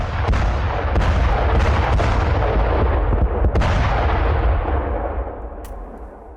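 Heavy booming IED blasts in the West Bank roll out one after another, loud and reverberant, with sharp cracks scattered through before the rumble fades at the end.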